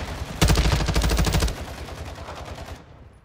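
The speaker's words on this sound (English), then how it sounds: "You are taking effective fire." Gunfire rattles in a shooter video game, with a rapid burst of shots for about a second, then fading echoes and a quieter tail.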